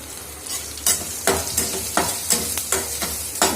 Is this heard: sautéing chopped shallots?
yes